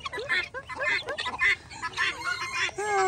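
Small rooster clucking and squawking in agitation while being held still, a rapid series of sharp, fairly close calls with brief pauses between them.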